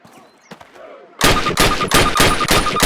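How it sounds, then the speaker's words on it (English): Rapid rifle shots fired at a target on a Call of Duty training range, a quick loud burst of about six sharp cracks after a quiet lead-in with faint background sounds. "Approach the fence and fire 6 rounds at your target."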